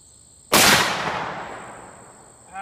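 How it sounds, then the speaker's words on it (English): A single loud blast from a .50 caliber muzzleloader rifle fired outdoors, one sharp crack followed by a long, slowly fading boom, with quiet before it. "First time shooting a muzzle loader."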